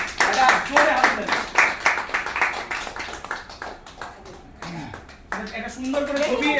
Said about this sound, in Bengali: প্রত্যেককে বলবো একটা জোরে হাততালি, একটা জোরে হাততালি